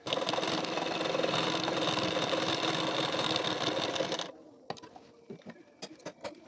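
A sewing machine runs steadily while stitching the edge of a collar-neck katori blouse, then stops abruptly, leaving scattered light clicks and handling noises of fabric nearby.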